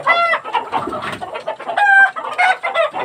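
Sonali laying hens cluck continuously on a small layer farm, several birds close by, with occasional louder drawn-out calls rising above the steady chatter.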